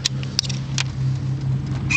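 A 2003 BMW R1150RT motorcycle engine runs with a steady, close, low idling drone, with a few light clicks and rattles over it and no talk.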